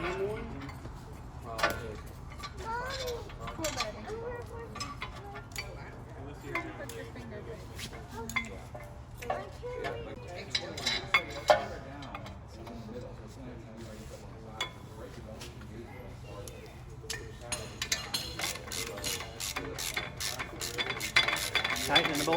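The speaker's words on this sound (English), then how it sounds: "Tightening the bolt back up." A ratchet tightens a brake caliper bolt on a Jeep JK, with irregular metallic clicks and clinks repeating through a quiet garage, and people talk over the work.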